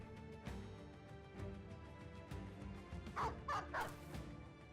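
A dog barks a few times in quick succession within the medieval combat game Battle Brothers, set against a steady background of game music and ambience.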